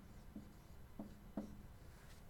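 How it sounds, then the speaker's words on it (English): Pen writing by hand on paper while a letter's new paragraph is indented, three short, quiet scratching strokes spaced apart, close and soft, with no talk. "Should write that up here too."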